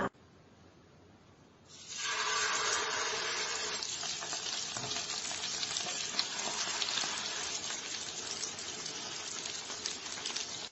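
Fish hits a hot pan and bursts into a loud, steady sizzle of frying that continues without a break after a quieter opening moment.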